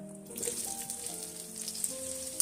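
Marinated okra fries in oil in a kadai with a steady, fairly quiet crackling sizzle that holds throughout, like light rain on a surface, with no talk over it.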